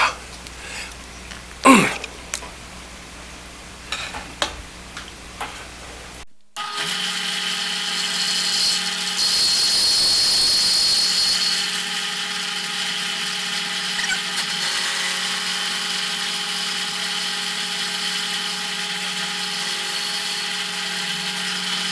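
Milling machine cutting into melted blue barrel plastic, a steady high whine and grinding that starts abruptly after a few seconds of quiet workshop noise and runs continuously to the end.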